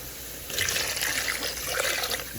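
Water pours steadily into a soup pot for albondigas meatball soup, a close, continuous splashing rush that begins abruptly and runs on.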